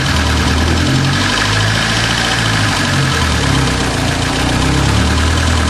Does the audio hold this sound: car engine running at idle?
yes